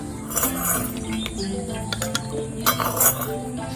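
Roasted peanuts tipped from a pan into a bowl give repeated close clinks and rattles of nuts against metal and dishware, with light scraping between.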